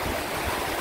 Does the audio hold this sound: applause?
no